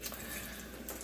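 Water running over organic broccoli sprouts being rinsed, a short steady splashy trickle, close and fairly quiet, with no talk.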